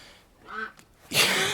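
A hen duck quacks once, faint, on a snowy morning homestead, followed by a louder rustle or breathy noise close to the microphone.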